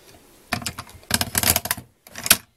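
A Bind-it-All binding machine punches holes through paper in a quick run of sharp, clattering mechanical clunks, pausing briefly before a final punch, with no talking.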